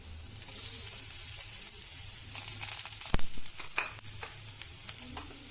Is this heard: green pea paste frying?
yes